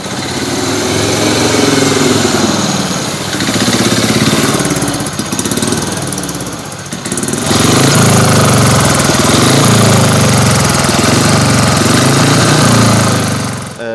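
A speedway motorcycle engine at a speedway training school roars up close and loud, surging and easing in repeated revving swells, with a brief dip midway before it climbs back to full throttle.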